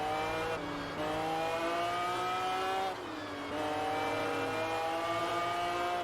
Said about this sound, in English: The sound of this car on this game is awesome.